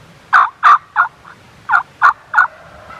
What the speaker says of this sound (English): When I called, they just gobbled a bunch.